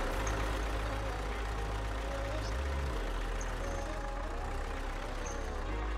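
A Liebherr 900 tracked excavator engine in the Spin Tires video game hums at a steady low idle throughout, a continuous heavy rumble with no talk.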